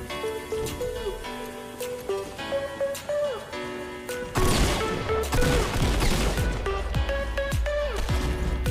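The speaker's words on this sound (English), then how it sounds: "For some reason, I'm missing all my shotgun shots." Shotgun blasts in the video game Fortnite, several sharp booming shots over a layered game soundtrack and effects, the loudest burst of firing crowding together midway through.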